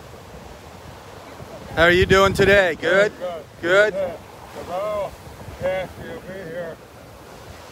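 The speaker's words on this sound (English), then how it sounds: "Nice waves, boy. Nice waves. Man, oh man, windy and wavy." Surf and gusting wind along a Gulf beach at Delnor-Wiggins, a steady wash of breaking waves with wind buffeting the microphone, running under a man's close conversation throughout.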